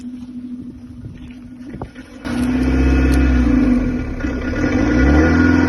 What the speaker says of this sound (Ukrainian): Заціним вихлоп на цій дизельные зверюки